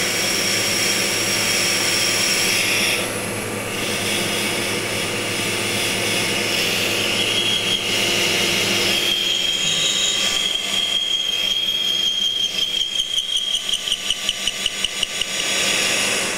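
A metal lathe takes a half-millimetre cut on the radius of a metal backing plate, giving a steady machine drone with a rising whine, then a run of rhythmic chattering clicks near the end, with no one talking.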